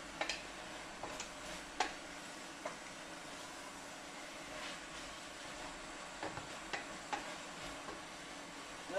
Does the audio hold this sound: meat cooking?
yes